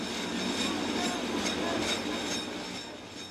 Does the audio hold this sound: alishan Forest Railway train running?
yes